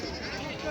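Sheep bleat at a busy livestock market that also holds goats and cattle, one drawn-out bleat blending into a dense crowd murmur and general market din.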